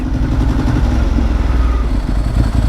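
A troublesome motorcycle with fresh brake pads that still runs poorly, its engine running steadily and loud up close, with a low rumbling clatter throughout and no talk.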